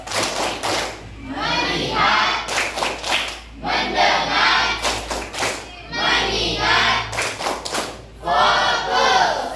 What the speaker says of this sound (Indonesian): Oke, satu kali lagi tepuk fokus